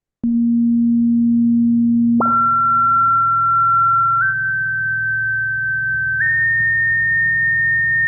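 A pure sine frequency tone from a custom playlist sounds alone over a low hum, holding steady for about two seconds before jumping to a much higher pitch, then stepping up twice more in slight increments.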